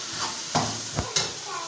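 Tomatoes and masala frying in a pan for chicken biryani, a soft steady sizzle broken by a few sharp stirring scrapes of a spoon, close and moderately quiet.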